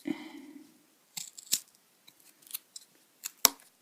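Scissors snip through stiff cardboard in a series of sharp, close cuts, spaced irregularly, with a brief rustle at the start.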